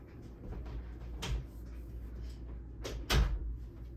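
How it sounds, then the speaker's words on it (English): A household room door is closed indoors, with a couple of soft thuds and knocks, the last one louder, over a steady low background hum. "I'm gonna close my door."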